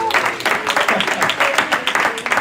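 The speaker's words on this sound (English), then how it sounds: "so can we clap for her as well?" A small audience at an academic seminar applauds, a brisk run of overlapping hand claps at close range that continues steadily throughout, with no speech over it.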